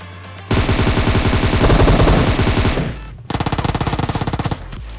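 Automatic gunfire in the PUBG Mobile shooter game, a long dense burst of rapid shots followed after a brief pause by a second, slightly slower rattling volley, loud and close with no talking.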